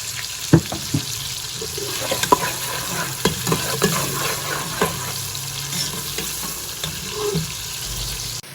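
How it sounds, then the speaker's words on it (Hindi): Onions sautéing in a pan for restaurant-style pulao give off a steady sizzle, broken by sharp stirring scrapes and clinks. "प्याज हमारा सौते हो चुका है।"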